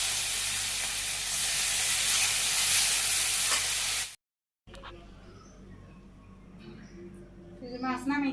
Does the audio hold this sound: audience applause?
no